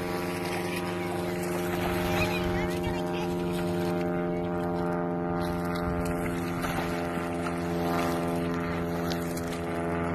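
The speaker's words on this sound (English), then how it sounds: "Airplane. Yeah, there's an airplane." A propeller airplane flies over Tanana Lake in Alaska, a steady droning hum that holds for the whole stretch while people talk nearby.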